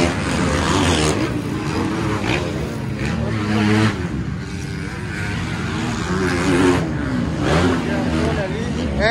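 Motocross motorcycles racing on a dirt track with 31 bikes out, engines droning and revving continuously in the background under steady talk.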